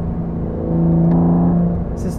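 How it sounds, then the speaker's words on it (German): An Aston Martin DBS Superleggera as its sound generator engages: a loud, steady low engine drone that swells slightly partway through, with a brief hiss near the end. "Das ist Zuschaltung."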